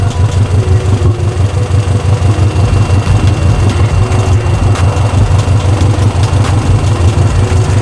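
A Honda Civic idles through a very loud exhaust, a deep steady low rumble with a slightly choppy pulse, close and continuous throughout.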